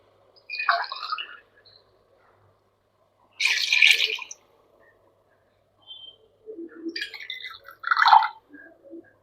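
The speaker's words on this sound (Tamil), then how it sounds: "தேங்காய் பால் தான் ஊற்றுறேன்." Coconut milk is poured into a pot in three short, splashing bursts separated by pauses of near silence.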